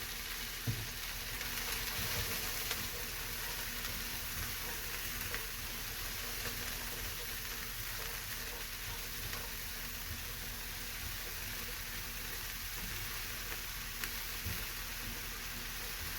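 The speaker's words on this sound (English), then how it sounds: "And then we're going to saute these onions up." Onions sauté in butter in a pan with browned bits on the bottom, a steady, moderately quiet sizzle that holds evenly for a long stretch, with only a few faint stirring clicks.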